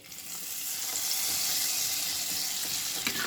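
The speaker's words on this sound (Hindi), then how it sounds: "मैंने घी से फ्राई किया था काजू को, इसलिए मैंने पूरा घी इसमें डाल दिया है" Hot ghee with cashews fried in it is poured into carrot halwa, giving a steady, close sizzling and frying hiss that runs the whole time with no talk.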